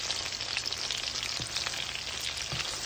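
Salmon pieces fry and brown in a pan with a steady, loud sizzle throughout, plus a couple of faint scrapes as the fish is moved around.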